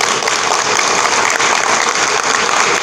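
A large audience at a meeting with India's external affairs minister S. Jaishankar claps loudly and steadily, a dense, continuous wash of applause filling the room for a few seconds.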